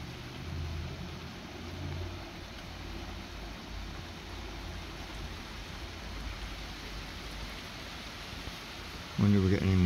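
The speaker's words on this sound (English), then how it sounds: "So it's still raining. You can probably still hear it." Rain falls steadily on a dark night as a soft, continuous hiss. A voice cuts in briefly at the very end.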